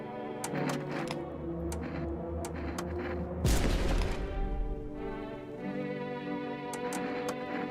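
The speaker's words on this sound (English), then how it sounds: "We're shooting." Gunfire in the horror game Mask of No, I'm not a Human: a steady series of sharp shots over a low rumble, then a louder burst of noise in the middle before the shots resume.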